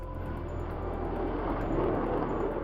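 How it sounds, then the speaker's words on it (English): F-16 and MiG-21 fighter jets fly overhead in a diamond formation during a NATO training event, producing a steady, loud, broadband engine roar that holds without a break. "The planes flew in a diamond formation overhead"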